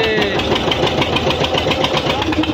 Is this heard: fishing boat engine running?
yes